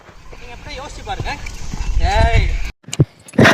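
Horse hooves clip-clop as a young horse is ridden in its first few sessions, steady hoofbeats heard under ongoing talk before a short pause and a couple of closer knocks at the end.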